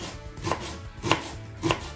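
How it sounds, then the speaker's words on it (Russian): A knife chops onion on a board, three crisp strokes evenly spaced about half a second apart, close and clear. "нарезаю лук"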